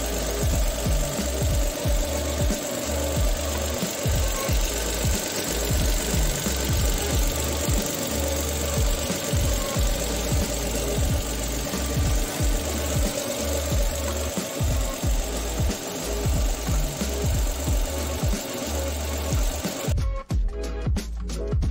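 A Mitsubishi Mirage G4 car engine idles steadily, a continuous rumble with a regular knocking pulse running through it, loud and close, then the sound shifts abruptly near the end.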